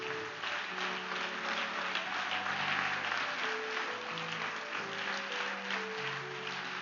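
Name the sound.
church congregation applauding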